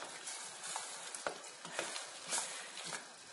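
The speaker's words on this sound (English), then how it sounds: "I'm going to stir the soap that's been grated into this pot" Grated soap being stirred into hot water in a pot over medium-low heat, a soft, steady scraping swish with a few louder clinks of the spoon against the pot, quiet and close.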